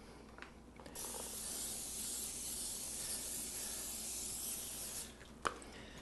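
Non-stick cooking spray hisses onto a baking pan in a kitchen, heard as one continuous close spray of about four seconds, framed by soft clicks and a sharp tap at the end.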